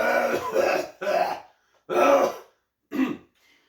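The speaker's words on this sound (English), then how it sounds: "please pardon my cough" Harsh throaty coughs come in several bursts, the first ones in quick succession, then two more after pauses, close and loud.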